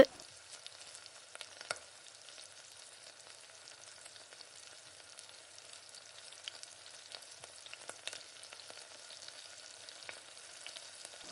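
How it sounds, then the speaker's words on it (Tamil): Chicken pieces for chilli chicken fry in hot oil, giving a steady, fairly quiet sizzle and crackle with a few sharper pops, and no voices over it. "அதே மாதிரி தான் இப்போ ஒவ்வொன்றா எடுத்து இந்த மாதிரி எண்ணெயில் சேர்த்து"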